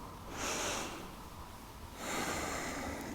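Two slow, audible breaths through the nose, close and airy, each a soft rushing inhale or exhale about a second long, taken during a gentle yoga stretch with no talking.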